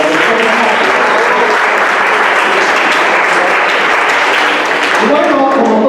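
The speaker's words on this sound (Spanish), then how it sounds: "Un aplauso," A dense, sustained round of applause fills the room from a crowd at a debate and presentation event, loud and continuous throughout, with a voice returning near the end.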